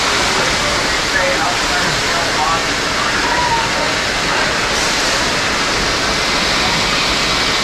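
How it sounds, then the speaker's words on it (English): Water gushing from a water ride at Busch Gardens Williamsburg, a loud continuous rushing roar of splashing water filling the scene close by, with faint voices beneath. "Look at the amount of water scooting out of the scoot there."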